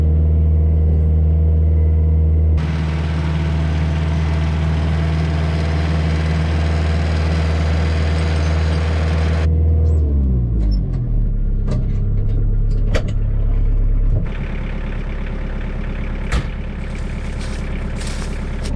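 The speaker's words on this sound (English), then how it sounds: "This is my 2012 Kioti DK40, the SE model, hydrostatic transmission." A 2012 Kioti DK40 SE compact tractor with hydrostatic transmission drives along, its diesel engine droning loudly and steadily up close, the pitch dropping midway and settling into a rougher rumble with some clanks.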